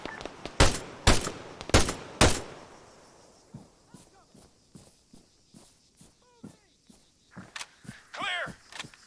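Rifle fire in the Arma 3 video game: a quick burst of loud, close cracks, then scattered quieter shots and footstep-like thuds, with game radio voices calling out.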